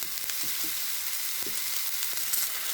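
Papaya and lentil dumplings (bori) fry in a pan with a steady, close sizzle that runs throughout, broken by a few soft knocks of stirring.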